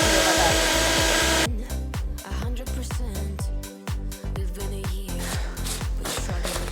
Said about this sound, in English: I like to blend it one bit at a time just to make sure that the baking powder goes all the way through